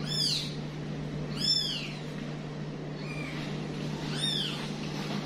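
A kitten meows repeatedly, three or four high, drawn-out cries spaced a second or two apart, fairly close, over a constant low electrical hum with no talking.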